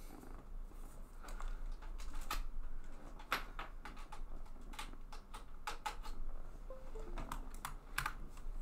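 Computer keyboard keys being typed on in a stretch of irregular clicks and clacks, steady and close, with no talking over it.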